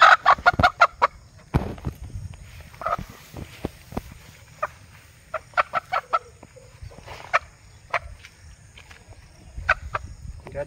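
Aseel chickens and roosters cluck in short, sharp bursts, scattered irregularly and close by over a low background hum, with a voice talking in places between the calls.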